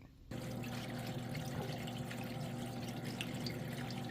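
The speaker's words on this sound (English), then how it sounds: "the water is flowing perfectly" Water flows in a steady, continuous stream, faint and even, with a low hum running beneath it.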